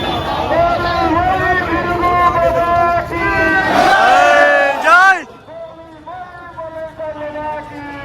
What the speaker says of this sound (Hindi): भीड़ इकट्ठा हुआ है।